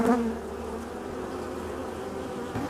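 A steady, droning hum of many honeybees buzzing together inside a hive at close range, continuous and even throughout with no voices.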